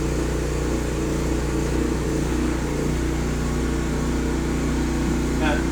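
A gasoline generator engine runs steadily at high RPM, a dense continuous drone with a strong low hum that stays constant and loud throughout, with a faint brief whine near the end.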